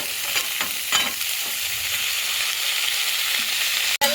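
Garlic, cauliflower and cabbage stir-fry for a vegetable soup, a dense, even sizzle up close with soft scraping strokes of stirring and a sharp knock near the end.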